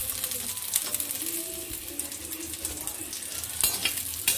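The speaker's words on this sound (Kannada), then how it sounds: "ನೆಕ್ಸ್ಟ್ ಕೂಡ ಹೀಗೇ ಫ್ರೈ ಮಾಡ್ಕೊಳ್ಳೋಣ" Chicken keema balls fry in hot oil, giving a steady close sizzle and bubbling with occasional clinks and stirring scrapes in the pan.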